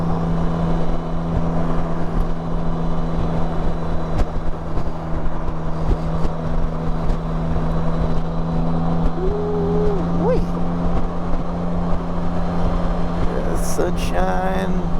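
Can-Am Spyder RT open-air three-wheeler cruising on the road, a steady, droning engine hum with constant wind rush throughout, a brief rising engine pitch near the end.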